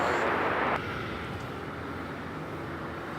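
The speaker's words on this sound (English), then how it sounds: "This is a Gulfstream G600." A Gulfstream G600 business jet at Los Angeles airport gives a loud, steady broadband roar that drops slightly in level partway through and then holds on as a continuous engine rush.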